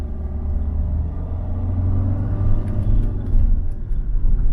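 A car is driven on a rough, broken village road near a dam under light throttle, giving a low steady engine rumble with bumps and rattles. Close and continuous, with no speech.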